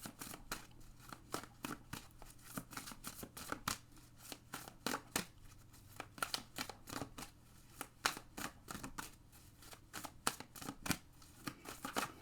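Rapid, crisp riffling and snapping of cards in repeated bursts, close up and fairly quiet, with no talking.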